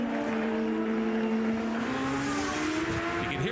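A 2004 Champ Car open-wheel race car on the Vancouver street circuit, its engine screaming loud and close, pitch climbing steadily as it accelerates and sweeps past, with no commentary over it.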